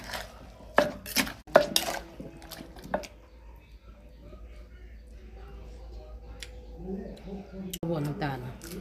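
A pestle knocks into a mortar of Thai papaya salad in several loud, uneven thumps, then the pounding gives way to quieter stirring and scraping as a voice talks over it.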